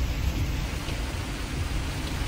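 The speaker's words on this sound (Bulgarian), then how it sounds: "обаче този път дъжда е много сериозен" Heavy rain beats down on a camper driving along a motorway, a dense, loud and unbroken wash of drumming water with no voices.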